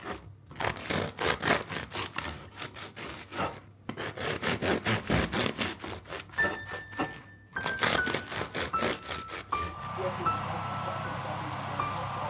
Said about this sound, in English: The sourdough baguettes are ready. I'm just going to slice these up